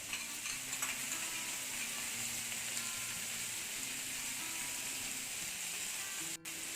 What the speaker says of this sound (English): So your onions you need to cook on the tawa for around 5 to 6 minutes till they are light brown.